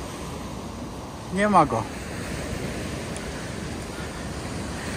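Sea surf on a winter beach in Jastarnia washes in a constant, wind-blown hiss, with someone speaking briefly over it.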